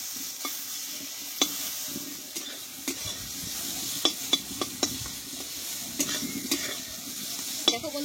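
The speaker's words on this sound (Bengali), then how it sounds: "একটু আলুটা ভালোভাবে ভেজে নিয়ে তখন আমি কিন্তু নিম ফুলটা দিয়ে দেবো।" Potatoes fry in a pan with a steady close sizzle, while a utensil stirs them in scattered scrapes and sharp taps against the metal.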